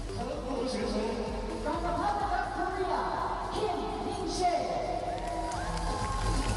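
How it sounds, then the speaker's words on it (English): Crowd cheering at a women's short program figure skating competition at the Cup of China 2024, a broad steady roar of applause and shouts filling the arena, with a commentator's voice running over it. "And then cheers from the crowd for Hong Yi-chen."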